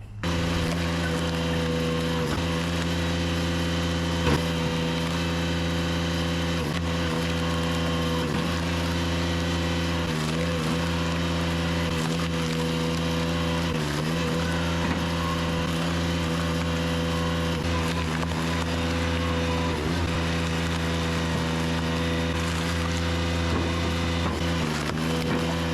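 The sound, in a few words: 59cc chainsaws cutting live oak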